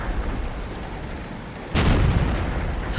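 A Jagdpanther tank cannon fires in World of Tanks: a single sudden, heavy boom breaks over a low, steady engine rumble and rings on afterward.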